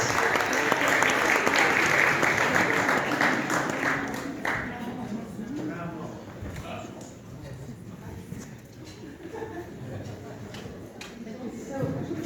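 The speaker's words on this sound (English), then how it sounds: "Big warm round of applause." A large audience at an evening ballet and dance gala applauds loudly in dense, sustained clapping that slowly thins and fades, with a voice speaking faintly underneath.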